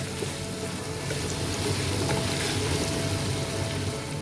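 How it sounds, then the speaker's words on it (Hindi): Sliced mushrooms fry with chicken in a pan, making a steady moderate sizzle with light crackling that stays even for a few seconds, without any talking. "अब हम इसको भी इस चिकन के साथ भूनेंगे।"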